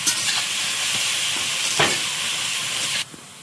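Greens with kohlrabi and potato being stir-fried in a pan in a Sundarbans home kitchen, a steady close sizzle with scraping stirs and a sharper clatter partway through, cutting off abruptly near the end.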